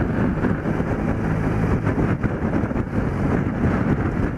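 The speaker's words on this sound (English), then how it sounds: "it's blowing a hoolie, all right." Strong gusting wind buffets the microphone of a rider on an old motorcycle: a steady, loud, rumbling roar that fills the whole stretch, with no talking.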